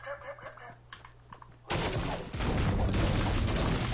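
Gunshots in a video game: quiet scattered clicks at first, then a sudden loud burst of shots and booms that stays intense to the end, with a voice under it.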